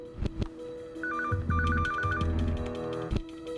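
A telephone rings in short warbling electronic bursts, two ring phrases in a row, alongside a few dull knocks and thumps in a quiet room.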